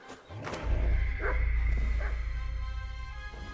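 Dogs bark in Kingdom Come: Deliverance 2, a few close yips and woofs over a low, rumbling background, with no talking.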